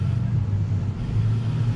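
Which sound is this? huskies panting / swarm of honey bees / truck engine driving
truck engine driving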